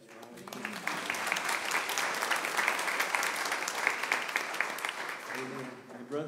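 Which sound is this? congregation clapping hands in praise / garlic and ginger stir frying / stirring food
congregation clapping hands in praise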